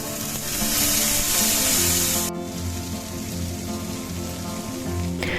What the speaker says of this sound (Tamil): இப்போது அந்த தோசை கல்லில் தான் நம்ம ஃப்ரை பண்ண போகிறோம் வாழைக்காவை.